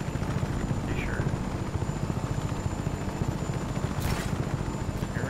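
Helicopter from the video game Just Cause 3, with a steady, loud rotor thrum that pulses evenly and continues without a break for the whole stretch.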